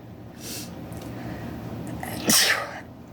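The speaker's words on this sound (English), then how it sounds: "Well, I'm going to sneeze." A single sharp sneeze bursts out loud and close near the end, preceded by a quick breathy intake, from someone reading scripture aloud.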